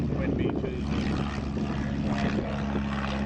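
Sikorsky S-38 amphibian aircraft "Osa's Ark" with radial engines droning and propellers spinning, a steady, loud, continuous low engine hum with no break.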